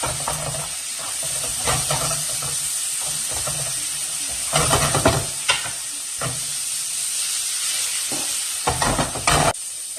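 Mushrooms and onions sizzling in a pan, with beef browning alongside. A continuous hiss runs throughout, punctuated by bursts of louder spatter and stirring, and no talking is heard.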